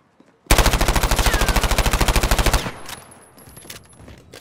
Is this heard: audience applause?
no